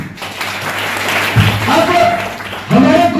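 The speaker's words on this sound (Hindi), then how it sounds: "तो आप जबरदस्त एक बार ताली बजाइए।" An audience at a training program in Deoghar claps in a steady patter, moderately loud and close, with a voice speaking over it.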